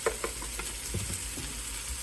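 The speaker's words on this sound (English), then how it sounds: "And I'll keep on stirring." Chopped sukuma wiki (kale) is stirred in a hot pan, a steady sizzle and fry under soft scraping and clicking of the utensil against the pan, close up with no talking.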